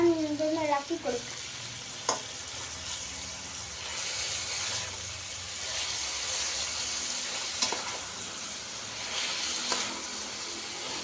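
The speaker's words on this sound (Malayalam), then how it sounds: "നമുക്കിനി എല്ലാം ഇതൊന്ന് ഇളക്കി കൊടുക്കാം." Mushroom curry frying in a pan, a steady sizzle and hiss throughout, with a few scraping stirs and occasional knocks of the spoon against the pan close by.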